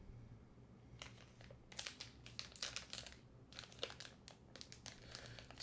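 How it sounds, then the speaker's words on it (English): Crinkling and rustling of a cricket protein bar's plastic wrapper being opened, a string of irregular crackly bursts close to the microphone, with no talking. "This is the fun portion of me opening packaging. Hear the crinkles."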